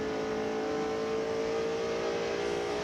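Mark Martin's NASCAR race car at the 1998 Southern 500 roars loud and steady down the straightaway as it accelerates, a continuous, close engine drone with no break.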